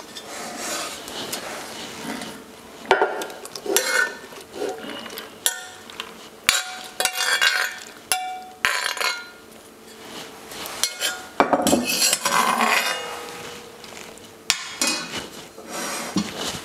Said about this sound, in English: We're gonna mix it all together before we put it in the baking dish.